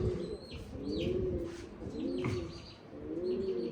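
Nearby pigeons kept in a loft give soft, throaty coos in repeated rolling phrases, with light chirps from other birds breaking in between.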